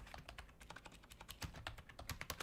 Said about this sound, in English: this is a new keyboard too and mouse that came along with the comp